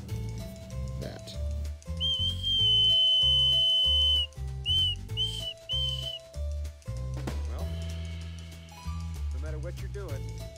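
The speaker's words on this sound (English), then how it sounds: "making whistles for your little ones in the front yard out of your leftover Zoa cans" A homemade whistle cut from a leftover aluminum Zoa drink can is blown in a front yard: one long, steady high whistle, then three short toots, over a loud bed of background music.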